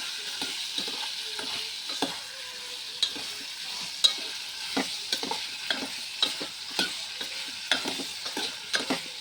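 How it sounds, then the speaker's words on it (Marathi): Raw mango pieces are stirred and mixed with spices in a pan, making repeated rhythmic scraping and clacking strokes over a soft sizzle. The strokes are close and frequent, and no one talks. "जे मसाले आणि टाकलेत हे कच्ची कैरी आपण मिक्स करून घेऊ."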